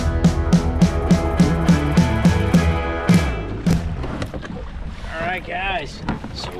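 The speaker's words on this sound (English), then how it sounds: "we'll get back in kayaking, enjoying our day" A kayak glides over calm coastal water near a beach, the paddle dipping in an even rhythm of soft splashes and drips, close to the boat under wind noise.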